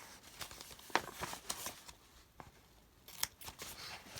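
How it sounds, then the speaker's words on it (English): Scissors cut away the edges of a printed craft sheet for a bottle bag, giving a few quiet, crisp snips and rustles of paper with no talking. "And I just peel it off my table and cut away the edges,"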